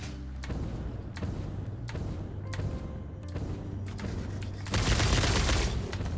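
Repeated gunfire in the Satisfactory video game, a series of sharp shots at a steady rhythm followed by a louder, denser burst near the end, with no talking.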